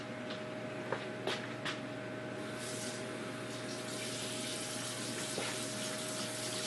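Tap water running steadily into a 1/3 cup measure while preparing coconut cream cake batter, a close continuous hiss and splash with a few faint clinks, no talking.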